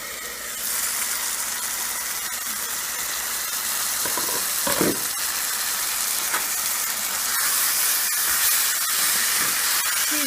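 Chicken pieces cooking in masala in an open pot give a steady, fairly loud sizzle and steamy hiss, with a few brief scraping clinks partway through and no voices.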